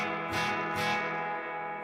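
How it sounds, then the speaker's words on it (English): Electric surf guitar run through reverb cranked all the way to 10, two struck chords blooming into a long, washy sustained tail that rings on without a break, played alone with no voices. "When I turn the reverb all the way up to 10"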